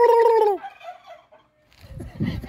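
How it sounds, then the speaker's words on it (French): A male turkey gives one loud, rattling gobble close by that fades out. Then a brief low rustle follows. "Une dinde. Ça, c'est le mâle. Il capote en esti quand je parle."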